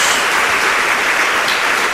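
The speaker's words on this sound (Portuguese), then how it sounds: "Dê uma salva de palmas ao Senhor." A church congregation applauds, a steady, dense wash of many hands clapping at an even level for the whole stretch.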